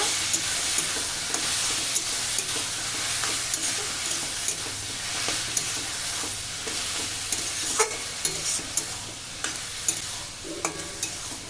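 Boiled cabbage is stirred into spiced masala in a pan, giving a steady close sizzle with repeated light scrapes and taps of the spatula throughout, with no voices.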